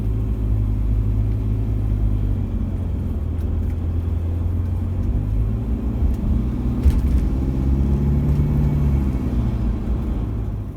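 A noisy vehicle cabin while driving, a steady low engine rumble and road drone with faint intermittent rattling and ticking on top, continuous and close, with no talking.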